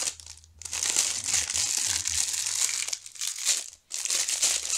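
Plastic-wrapped polyester decoration fabric crinkles and rustles as its packaging is pulled open up close, with bursts of crisp crumpling broken by short pauses.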